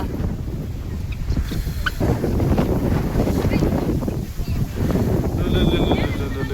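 Strong wind gusting and rumbling against the microphone in a constant, loud roar, with a faint bird chirp briefly audible near the end.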